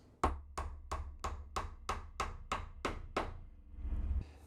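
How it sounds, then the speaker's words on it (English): A small tack hammer taps sharply about ten times on a wood picture frame in a steady rhythm, close and solid, then stops. "So I'll just use this tack hammer."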